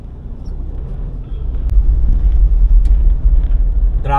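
Low, heavy rumble of road traffic inside the Quezon Avenue tunnel, heard from within a vehicle, growing louder midway and holding a steady engine drone with occasional faint higher clanks.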